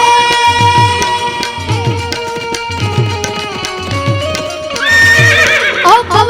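A horse neighs in a film song about Maharana Pratap's horse Chetak, a loud whinny rising over dense music with a rhythmic beat and hoofbeat-like accents.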